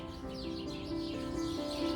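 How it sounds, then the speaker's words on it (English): Birds chirping outdoors in a garden with tall trees, a steady layer of small overlapping tweets and calls at moderate distance, continuous throughout with no talking. "You can hear all the birds chirping."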